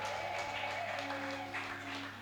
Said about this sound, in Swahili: Tumshangilie Bwana kwa makofi mengine mengi na vigelegele